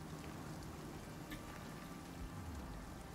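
A light rain shower in the video game Icarus hisses as a steady, soft wash of falling drops, faint and continuous, with a low rumble underneath and no voices.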